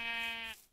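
A sheep gives one short, loud, nearby bleat, a wavering nasal cry lasting about half a second before cutting off, with no talk over it.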